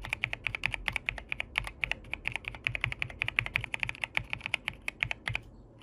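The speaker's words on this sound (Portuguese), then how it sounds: "E de fato até que tem uma pegada bem toquezinha esse teclado com esse switch. Tem uma acústica agradável." Typing on a Royal Kludge RK R87 Pro gasket-mount mechanical keyboard: a steady, close-up stream of crisp key clacks at a brisk, uneven pace with occasional heavier thocks, no voices.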